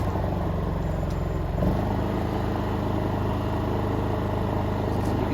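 A hard-starting portable generator engine runs steadily after being started, a continuous low droning hum with a rough mechanical rattle, close and loud, with no talking.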